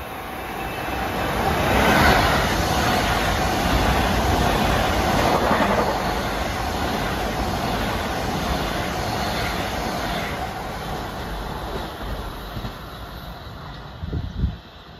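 A Long Island Rail Road M9 commuter train rolls past the Carle Place station in morning rush hour, a steady loud rush of wheels and rail noise that slowly eases away, with faint clicks near the end.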